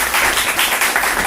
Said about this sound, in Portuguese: eu queria que vocês o recebessem com uma salva de palmas